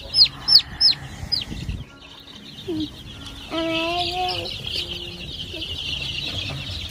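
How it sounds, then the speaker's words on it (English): Baby turkeys in a box at a farm store chirp in short high peeps at first, then a steadier run of calls over a low hum of store noise. "Those baby turkeys in there."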